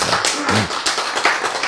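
An audience claps during a Korean church sermon, in a short, dense burst of hand claps that lasts throughout.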